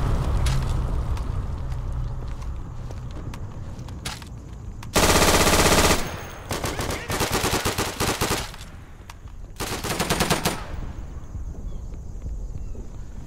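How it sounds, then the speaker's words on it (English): An airstrike in the video game Day of Infamy brings heavy bursts of rapid automatic gunfire and blasts. Two loud dense volleys stand out over steady game noise and scattered shots. "Not airdrop, but airstrike!"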